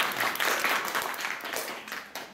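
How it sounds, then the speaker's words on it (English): Audience applause at a music event, a broad wash of clapping that starts full and gradually thins and fades toward the end, heard without voices on top. "So I want to applaud them for that first."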